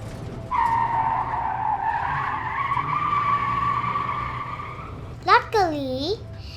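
Cartoon car skidding to a halt as an earthquake breaks the road apart: a long, loud, steady tire squeal lasting several seconds, followed by a short burst of rising and falling voiced cries from a child.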